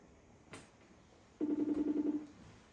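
A phone ringback tone pulses in a quick burst of evenly spaced beeps, fairly quiet, after a brief click; no one speaks.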